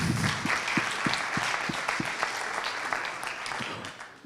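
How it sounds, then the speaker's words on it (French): An audience applauds at the closing plenary session of a diaspora entrepreneurs' forum, a steady wash of clapping with distinct nearby hand claps standing out, fairly soft and continuous throughout. "je vous remercie de les applaudir aussi"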